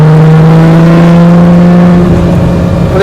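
A Lamborghini Miura supercar engine revs loud and close, a steady high-pitched drone rising and falling slightly, with no talk over it.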